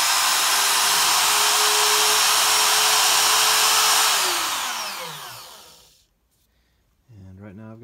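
An MPCNC machine traverses to a distant X position, giving a loud, steady whirring roar with a faint whine that winds down and fades into silence; a voice then speaks briefly at the end.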